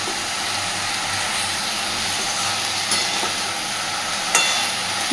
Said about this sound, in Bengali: খুব সুন্দর করে এবার শাপলাটাকে ভেজে নেব।